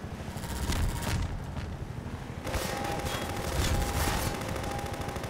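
Rapid bursts of automatic gunfire in the video game Half-Life 2, dense rattling volleys that run nearly continuously, loud and close, with a brief thinning around two seconds before firing resumes.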